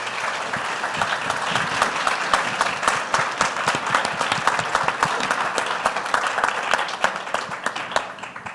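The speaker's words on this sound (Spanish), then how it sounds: "Me gustaría darles primero un aplauso" Audience at a competition law forum applauding the panel speakers, steady close clapping with distinct individual claps sustained for the full length, no talk over it.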